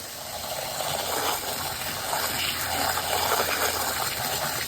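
Water gushes and sprays steadily while rinsing soap suds off a surface during oxidation removal outdoors on an overcast day, a continuous close rushing hiss with no talk.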